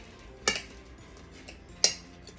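A knife cuts through a skillet of crispy-bottomed cornbread, making two sharp metallic scrapes against the pan, spaced about a second apart, close and clear over quiet background.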